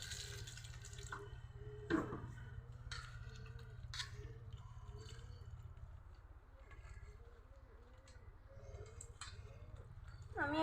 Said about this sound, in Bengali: মরিচগুলো ভালো করে ধুয়ে নিব।